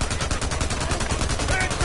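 Gunshots in the zombie survival game Days Gone, fired against a fleeing biker: a dense, continuous stretch of loud shots with engine-like rumble beneath.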